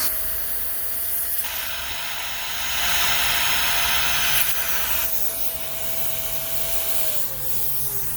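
Shark NV356 vacuum on high suction with a repaired hose, a steady airy hiss and whine that surges louder midway as the suction relief valve pops open, close and alone.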